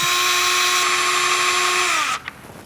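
A power drill whines steadily at high speed, boring a pilot hole into a door while fitting a corner organiser front, then cuts off abruptly, followed by a couple of faint clicks.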